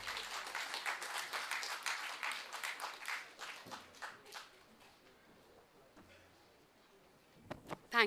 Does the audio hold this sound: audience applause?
yes